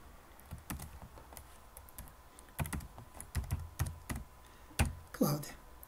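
Keys tapped on a computer keyboard in quick, irregular bursts at close range while a short text is entered, with a few louder keystrokes and brief pauses between runs.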